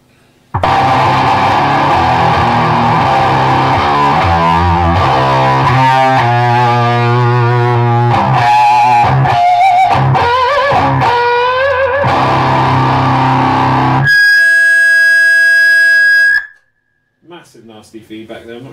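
An electric guitar plays through a TC Electronic Eyemaster distortion pedal, giving loud, heavily driven chords. These give way to a piercing sustained feedback whine that cuts off suddenly, followed by quieter fragments.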